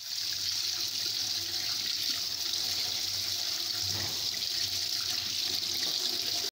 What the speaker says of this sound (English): before that we need to wash our aloe vera and our lemon